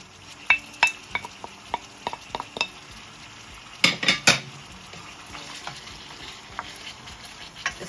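Lamb frying in a pan with dry spices, stirred with a metal utensil, with a low sizzle under a run of sharp clinks and scrapes against the pan and a louder cluster of knocks midway, no one speaking.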